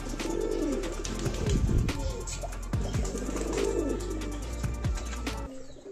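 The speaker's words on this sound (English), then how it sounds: "Reversewing Pouter pigeon." A Reversewing Pouter, a tall fancy pigeon breed, coos in low repeated rolling phrases close by, with faint chirps and clicks from other birds behind it.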